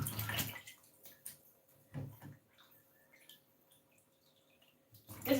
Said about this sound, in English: So this is fish. The type of fish is tilapia. So I'm washing it in.